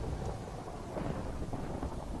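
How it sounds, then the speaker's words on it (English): Thunder and heavy rain from a Minecraft weather and storms mod roll on steadily, a dense low rumble with constant rain noise throughout and no voices. "the rain has really come down hard because of the tornado"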